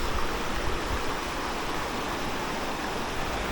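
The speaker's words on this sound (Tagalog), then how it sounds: "Napakasarap pakinggan ng agos ng tubig." Stream water flows steadily over rocks in a hillside area in Sta. Cruz, Murcia, Negros Island, Philippines, making a continuous close broadband rush with no voices.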